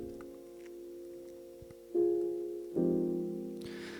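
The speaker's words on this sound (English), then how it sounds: "so I thought I'd go over to the piano and play some similar chords into the Rhodes" Soft piano chords, played in place of Rhodes parts for an R&B beat, ring out quietly with a sustained chord followed by two fresh, louder attacks that slowly decay, close and alone.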